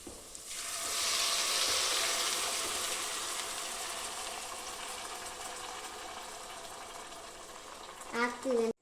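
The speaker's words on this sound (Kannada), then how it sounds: "ಇವಾಗ ಫ್ರೈ ಮಾಡ್ಕೋಬೇಕು ಚೆನ್ನಾಗಿ. ಇವಾಗ ನಾವು ಪೇಸ್ಟ್ ಮಾಡಿಟ್ಕೊಂಡಿರೋದನ್ನ ಹಾಕ್ತಿದ್ದೀವಿ." Spice paste frying in a pan with cashews for paneer butter masala, a strong sizzle that flares as the paste is added and slowly eases, with a brief clatter near the end.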